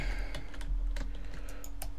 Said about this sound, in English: Whoa, my keyboard's really sticking now